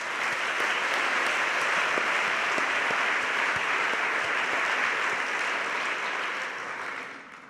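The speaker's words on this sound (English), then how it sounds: "Can we have a round of applause for all of our supporters?" An audience at a literary reading event gives a full, dense round of applause, steady and sustained for several seconds before fading out at the end.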